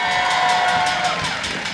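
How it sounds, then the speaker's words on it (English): Large audience applauding in welcome of new White House interns, a broad continuous roar of clapping with a faint whistle-like tone running beneath, loud and steady throughout. "Let me also give a big round of applause and welcome to our new White House interns"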